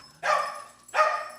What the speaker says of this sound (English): My dog is going crazy right now.